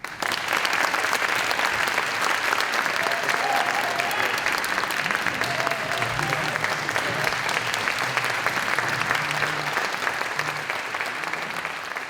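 An audience applauds steadily and loudly for about twelve seconds, welcoming a speaker, the clapping dense and continuous with faint crowd murmur beneath.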